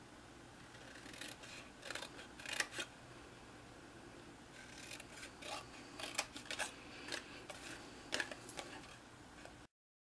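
Scissors snip along score lines in paper while a paper Easter basket is cut at its corners: quiet, close, irregular clusters of crisp cuts over faint room hiss.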